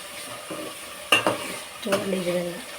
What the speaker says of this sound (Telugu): తర్వాత పచ్చిమిరకాయ, టమాటా, ఉల్లిపాయలు వేసుకొని కాస్త కొంచెం సేపు మిక్స్ చేసుకోవాలి. బాగా వేపాలి.